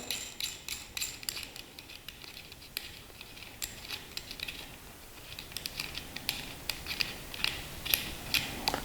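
Lock ring of a Unertl-style competition scope mount being unthreaded, giving continuous close metallic scraping and clicking with dense ratchet-like ticks throughout and no voices.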